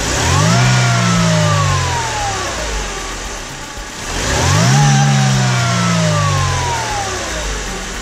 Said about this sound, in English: the sound of that compressor superchargers is super iconic, with a deep bass tone while maintaining the classic engine rumble